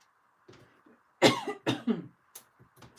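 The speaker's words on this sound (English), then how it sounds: "I can't seem to shift this cough" A person with a persistent cough coughs a few times close up, a sharp burst followed by two more coughs and softer throat sounds in a quiet room.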